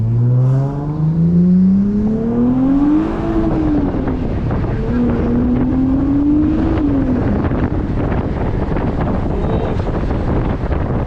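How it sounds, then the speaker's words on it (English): An Infiniti Q50 Red Sport pulls hard on a highway at night, its engine and intake droning loudly and rising in pitch before settling, with heavy wind rush over the whole stretch. "those intakes sounds good"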